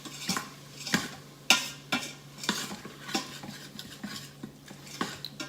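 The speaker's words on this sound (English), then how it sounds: "I just like to really mix it in and get it stirred up good." A spoon scrapes and clinks steadily against a pot while taco seasoning is worked into browned meat for taco soup, with sharp periodic knocks roughly every second and a faint low hum underneath, no talking.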